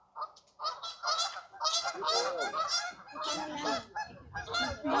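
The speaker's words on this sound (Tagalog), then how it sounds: "Daming pato." Many waterfowl at the Toronto Zoo call noisily all at once, a dense, continuous chorus of loud, overlapping honking cries that carries on without a break.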